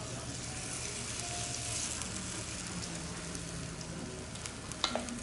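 Spoonfuls of shrimp and water parsley pancake batter fry in a hot pan, giving a steady, close sizzle with fine crackle throughout and a brief utensil clink near the end.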